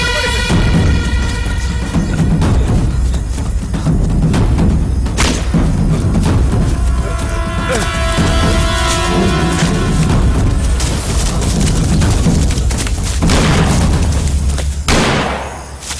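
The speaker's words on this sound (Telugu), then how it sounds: "అతను ఎదురు కాల్పులు చేస్తున్నాడు" Loud gunfire and booming blasts in an action film shootout, with heavy thumps and sharp cracks repeating throughout and a sudden strong impact near the end.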